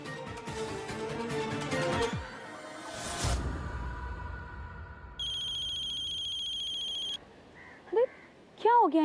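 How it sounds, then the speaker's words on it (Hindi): A phone ringtone plays in a Hindi TV serial as a sustained electronic tone for about two seconds, with voices and a whoosh around it and brief melodic chirps afterward. "फोन क्यों नहीं उठा रही है यार ये?"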